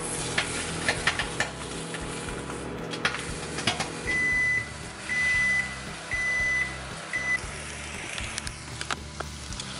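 An egg frying in a pan for a wrap, flipped partway through: a steady close sizzle with light scrapes and taps, while a few short electronic beeps sound in the middle.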